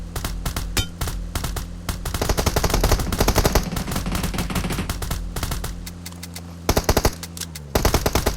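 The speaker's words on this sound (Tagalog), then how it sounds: "Naririnig na sila may nagbabaril." Sustained automatic gunfire from PUBG Mobile, rapid bursts of shots cracking back and forth in a dense firefight, loud and nearly continuous with brief lulls before fresh volleys near the end.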